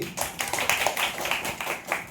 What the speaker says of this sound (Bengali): এ হাততালি হাততালি